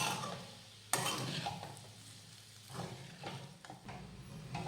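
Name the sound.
stirring sabudana khichdi in a pan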